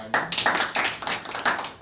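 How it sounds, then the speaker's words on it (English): Clapping breaks out at a club meeting to honour the table topics master, a few close, sharp hand claps in an uneven rhythm, bright and loud. "Let's start with a big round of applause for our table topic master."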